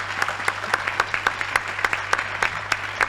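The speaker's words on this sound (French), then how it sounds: "on peut l'applaudir, je pense" Audience applause rings out, a steady run of close, distinct hand claps against a low background hum, continuing evenly throughout.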